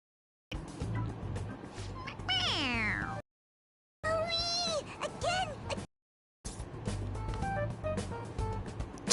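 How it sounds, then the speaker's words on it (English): A stuffed toy cat in Persona 5 Royal meows when pressed on its head, three separate bursts of drawn-out, wavering cat cries with silence between them. "It meows when you press on its head."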